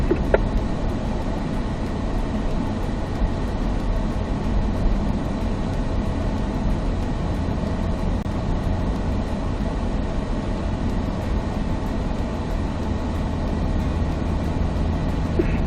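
A C8 Corvette rolling slowly onto a race track, heard from inside the cabin as a steady low engine drone and road rumble, constant in level with no talking.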